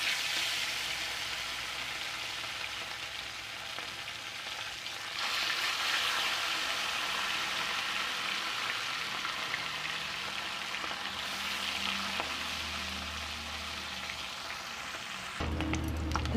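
Fish frying in hot oil in a kadai, a steady loud sizzle and crackle throughout with no talk.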